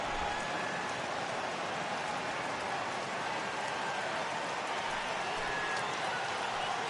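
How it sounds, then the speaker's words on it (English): Rain falling on a ballpark during a baseball game between the Mets and Braves, a steady, soft hiss of drops across the field with faint crowd murmur and talk underneath. "Yeah, the rain starting to intensify here. It's coming down a little heavier now."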